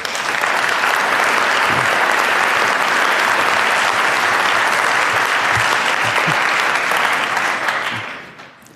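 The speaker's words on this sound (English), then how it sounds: "Please welcome him with a very warm applause." A crowd at a biohacking talk on vegan cheese applauds to welcome a speaker to the stage. The clapping is loud, full and sustained for about eight seconds before tapering off at the end.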